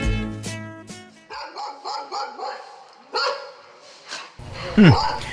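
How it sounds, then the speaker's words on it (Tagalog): Dog barking in a series of sharp, repeated barks with a brief whimper, heard close and fairly loud in a home setting, mixed with some speech and other voices. "Da kayo matgayam ti tataulan ti aso mi, nanang."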